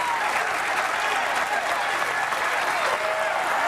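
A packed crowd at a professional bowling final roars and applauds in a steady, loud wash of clapping and cheering.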